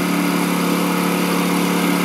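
A Honda EU2000i tri-fuel generator engine runs at a steady, loud, even drone, with no voices over it.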